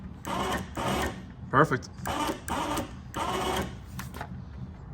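An OPENROAD 4WD 3500lb ATV/UTV winch motor running in several bursts, each a steady whirring drone of about half a second, nearby, with a brief spoken word between them.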